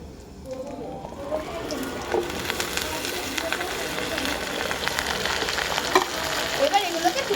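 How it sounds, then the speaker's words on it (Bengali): Chopped vegetables sizzle steadily in a pan with chilli and ginger-garlic paste while being cooked for khichuri, a continuous close frying hiss with scraping stirs, and a voice talks over it. "সবজিগুলো ভাজা হয়ে গেছে।"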